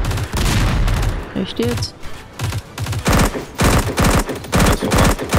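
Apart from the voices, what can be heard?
gunfire in the video game Dysterra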